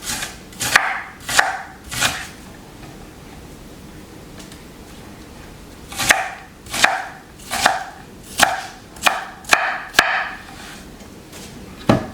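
Knife chopping onions on a cutting board: a few strokes, a pause, then a steady run of rhythmic chops, close and crisp.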